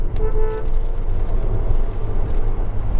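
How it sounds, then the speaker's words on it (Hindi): Kia Carens MPV pulling away and accelerating, a steady rumbling engine and road noise heard from inside the cabin, moderately loud and continuous. "थोड़ा लॉन्च कर दिया कार को"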